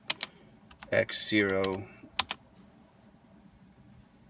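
A few quick key presses on a CNC mill control keyboard enter G-code in a shop, scattered short clicks before and after someone speaking briefly.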